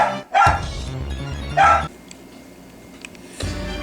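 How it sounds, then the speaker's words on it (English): A dog barks loudly and close in a Pokémon video game, three separate bursts with quiet gaps between them. "Over the noise a dog barks."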